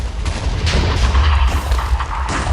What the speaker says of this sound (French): l'explosion est terminée